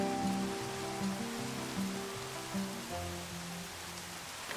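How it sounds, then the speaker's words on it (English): Rain falls steadily in the video game Minecraft as a constant soft hiss, heard alongside a gentle melodic background tune of held low notes, with no voices. "Since it was raining, I figured my feathered friends would want to get out of the rain"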